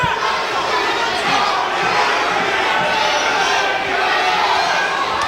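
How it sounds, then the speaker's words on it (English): A boxing crowd roars and cheers steadily for Kevin Murray during a fight, a dense wall of many voices, loud and continuous throughout. "And the crowd willing Kevin Murray on here"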